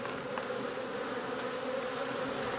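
Many honeybees buzz together at a hive entrance in autumn, a dense, continuous drone close by, with individual insects whining past now and then.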